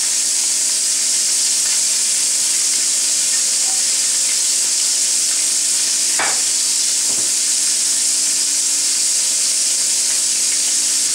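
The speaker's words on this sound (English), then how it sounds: "you probably hear the chicken frying up right now" Chicken frying in a hot pan, a steady broadband sizzle that runs the whole time, with a couple of brief clinks or stirs partway through and no talking.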